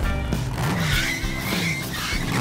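A cartoon motorbike drifts with a long tire skid and a whining engine, loud and continuous throughout, no voices.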